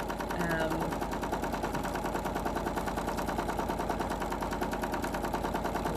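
A sewing machine quilting through all layers of a placemat, its needle hammering in a fast, steady, even rhythm close by, while a person talks over it.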